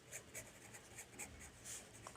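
Chalk or marker writing an answer on a board in a classroom lecture: a quiet series of short, rhythmic scratchy strokes close by, with no talk.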